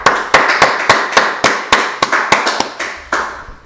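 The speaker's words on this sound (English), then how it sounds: "Let's go ahead and clap it up." Members of a brotherhood class clap together in a group, sharp, loud, echoing claps in a quick, fairly regular rhythm that slows and spaces out toward the end, each one ringing off in a reverberant room.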